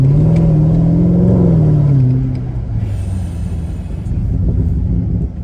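A Mercedes-Benz ML63 AMG engine pulls hard, a deep loud rising throaty roar that climbs in pitch for two seconds, then drops back to a lower rumbling drone as the car carries on, heard close with no talking.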